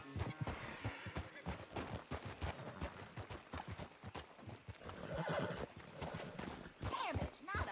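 Rapid hoofbeats of a horse in Red Dead Redemption 2 pound steadily throughout, broken by a sharp neigh near the end, with a voice talking over the galloping.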